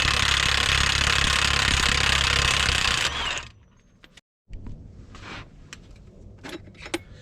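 An impact wrench with a 36 mm socket hammers loose the axle nut on a GM truck with a continuous loud, rattling burst for about three seconds. Clanks and clinks of the nut and tools follow.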